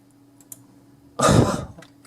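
A single harsh cough bursts out close by after a near-silent stretch, lasting about half a second before fading.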